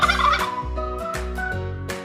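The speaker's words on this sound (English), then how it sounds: "turkey," A turkey gobbles close and loud, a rapid burbling rattle opening with a sharp peak, then trailing off into shorter warbling bursts.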